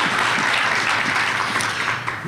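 An audience claps at a talk on bringing critical thinking to schools. The applause is a loud, scattered patter that stays fairly even for a couple of seconds.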